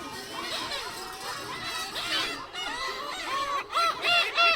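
Several black-tailed gulls call repeatedly at a distance, mewing cries rising in number and loudness toward the end, mixed with soft background voices.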